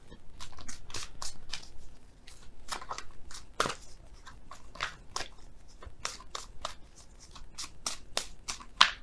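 Oracle cards shuffled close by in a quiet room, a steady run of crisp riffles and flicks with brief pauses and no talking.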